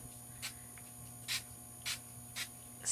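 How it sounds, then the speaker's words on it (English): Short hissing bursts from a spray bottle misting ink, about five quick pumps spaced unevenly, close and fairly soft over a quiet background hum. "So I'm going to spray and get that to lay flat."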